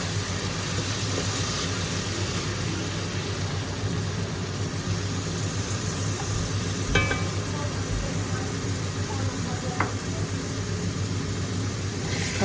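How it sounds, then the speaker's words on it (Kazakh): Onions fry in a cauldron with a steady, fairly close sizzling hiss, a low hum running underneath and an occasional faint clink of a utensil. "Енді қазанға пиязды мен уже салып қуырып жатырмын."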